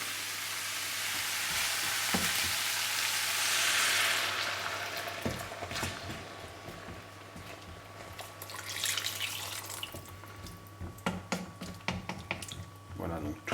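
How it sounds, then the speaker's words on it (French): Broth poured into a hot pot of pumpkin pieces, a loud rushing pour and sizzle that fades into scattered clinks and bubbling, close up. "Je vais remettre le feu. Je l'avais éteint pour éviter que ça fasse trop de bruit. Voilà. Et on va mouiller avec le bouillon."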